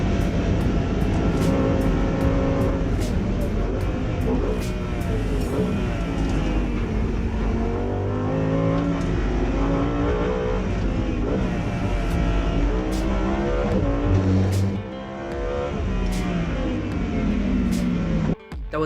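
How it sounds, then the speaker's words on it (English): Lamborghini Huracán Performante V10 supercar lapping the Nürburgring Nordschleife, its loud engine note rising and falling through gear changes continuously, close and dominant throughout, with brief sharp transients and a dip near the end. "Lamborghini took the hardcore V10 supercar to the Nürburgring Nordschleife"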